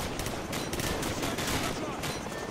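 Rapid automatic gunfire from Call of Duty 4: Modern Warfare rattles in a dense, continuous burst of overlapping shots, loud and close, with a player's voice mixed in.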